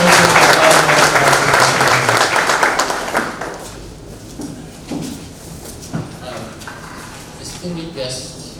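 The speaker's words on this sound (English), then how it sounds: "Let us welcome him with an applause" Audience at a South Sudanese book launch claps to welcome a professor, a full burst of applause for about three seconds that then thins into scattered claps and room noise.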